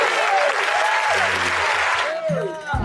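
Crowd applause from a film scene, loud and continuous, with voices talking over it and the clapping cutting off abruptly near the end.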